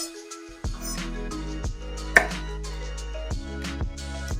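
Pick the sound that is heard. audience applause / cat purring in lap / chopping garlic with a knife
chopping garlic with a knife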